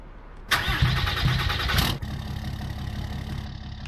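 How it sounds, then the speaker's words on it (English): A truck engine in Farming Simulator 19 cranks and catches with a loud burst, then settles into a steady, rumbling idle with no talk over it. "Man, his truck sounds good over here."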